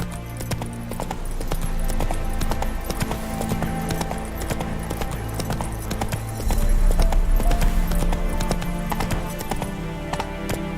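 Roach, Geralt's horse in The Witcher 3, gallops with rapid, steady clip-clop hoofbeats over a dense game soundscape, the pounding loud and continuous and growing heavier toward the end.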